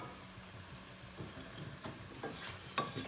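Brussels sprouts stirred into a caramelizing onion mixture in a pan, quiet sizzling broken by several scraping stirs and a sharp clink near the end, fairly soft and with no speech.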